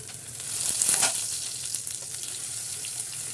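Sliced onions sauté in a pan for tomato rice, giving a steady close sizzle that swells briefly near the start then settles into an even hiss; no talking.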